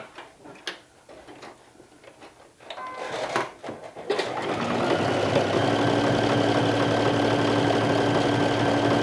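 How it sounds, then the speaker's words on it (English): A sewing machine runs a triple stretch stitch on a dress. Light clicks and handling come first, then the motor starts and holds a steady, close, mechanical whirr and rapid ticking for the remaining five seconds. "I will see if I like how the triple stretch stitch looks like on the rest of them"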